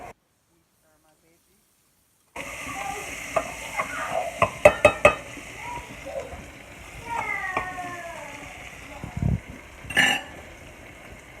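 Peppers sizzle in a hot pan while a utensil clanks and scrapes against it in sharp bursts, after a brief silence at the start; a voice speaks intermittently over the frying.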